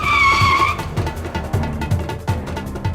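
A car brakes hard and skids to a stop, tyres squealing loudly and close at first before the sound settles into rough rumbling scraping.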